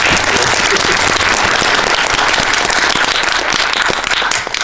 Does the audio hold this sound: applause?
yes